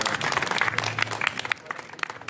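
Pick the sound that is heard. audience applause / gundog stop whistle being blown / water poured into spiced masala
audience applause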